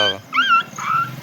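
A person imitates a dog, voicing whimpering yips and whiny howl-like cries that rise and fall in a few short bursts, loud and close.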